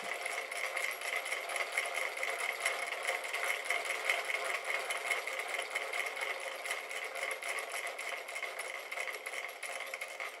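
A magnetic flux drive piston motor idling at a steady low speed, a rapid, even mechanical ticking and whirring hum that runs on unbroken at moderate volume, with no voices.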